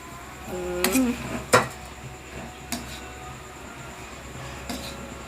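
Rice in a pot is stirred with a metal spoon, giving a few sharp scraping clinks and one louder knock early on, then sparse faint taps over a quiet room hum, with no voices.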